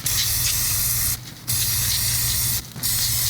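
Cleaner sprayed onto the sump plug of a BMW R 1300 GS motorcycle during an oil change, a loud close hissing spray in long bursts with two short pauses between them.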